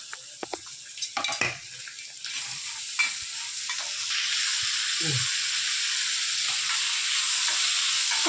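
Steady sizzling hiss of onions frying in oil in a pan, with a few stirring clatters early on, close and continuous.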